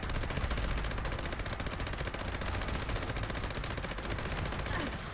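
Gauss minigun fire in the video game Fallout 76: a continuous, rapid stream of loud mechanical gunshots at a fast, even rate, unbroken for the full five seconds.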